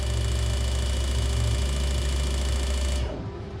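A rapid mechanical buzz from Ford Fiesta ST 2.0 Duratec fuel injectors spraying into test tubes on a flow test bench, loud and steady, then cutting off abruptly near the end.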